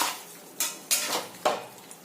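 Sugar is stirred into soya chilli gravy in a pan, making a few sharp, close scrapes and clinks of a spoon against the pan at uneven intervals, with no talking.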